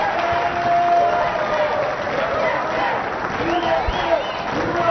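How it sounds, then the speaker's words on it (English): Mosconi Cup 2011 pool tournament crowd applauding and cheering in an indoor arena, sustained clapping and murmuring at moderate level with a commentator's voice over the top. "the crowd is really beginning to get into this now"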